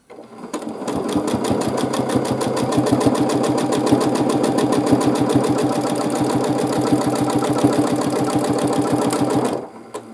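Close, loud sewing machine running continuously for free-motion quilting, dark thread on light fabric, its needle producing a rapid even mechanical chatter for nearly ten seconds before stopping abruptly.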